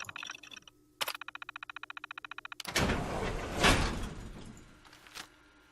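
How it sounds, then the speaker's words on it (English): A remote-controlled door in Fallout 4 gives a rapid series of electronic beeps, then a loud mechanical whoosh and rumble as it slides open, settling with a final clunk. "Remote door. Open the door."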